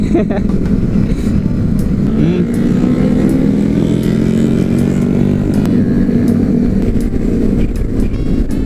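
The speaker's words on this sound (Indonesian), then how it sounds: "Geber-geber sama moge, mantap boy." Loud, continuous rumble of big motorcycle engines close by on a group Sunday-morning touring ride in West Sumatra, with throttle surges and revving throughout, plus wind buffeting as they ride.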